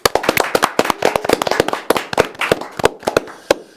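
A studio audience at a televised education superintendent election debate claps for the four candidates, a lively burst of close, crisp applause that gradually thins out toward the end.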